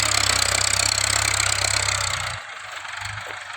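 A Ford single-axle walking tractor engine plows a sugarcane field with a loud, rapid, hammering diesel knock. The knock steadies, then drops to a lower, lighter chugging near the end.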